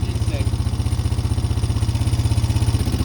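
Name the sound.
small engine starting up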